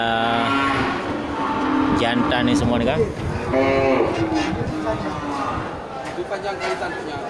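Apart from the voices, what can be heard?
water buffalo mooing at a livestock market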